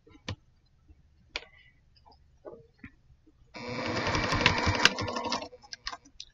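A sewing machine stitches locking stitches on a quilt block: a few scattered clicks and ticks, then a close, steady two-second burst of rapid mechanical stitching that stops abruptly.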